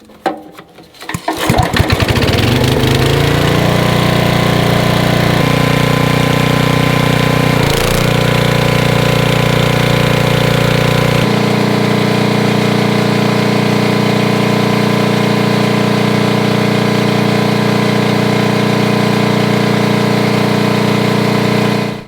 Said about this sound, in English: So now we're going to plug it into the generator, and we're going to see if the generator is strong enough to pull the pump.